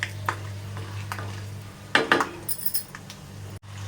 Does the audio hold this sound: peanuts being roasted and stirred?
yes